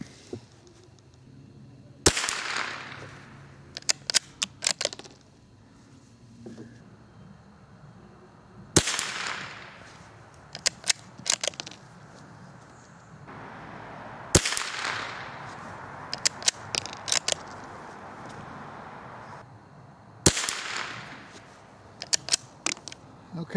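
Sellier & Bellot CLUB .22 rifle shots fired outdoors at a range, four sharp cracks spaced several seconds apart, each followed by a short rattle of action and brass clicks, with quiet background between.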